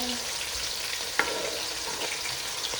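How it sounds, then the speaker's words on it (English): Ingredients frying in a pan for ofada stew, a steady crackling sizzle with a sharp clink of a utensil partway through, with no talk. "Yeah, just going to bring back that heat because I did turn it down. Yeah, let it fry up."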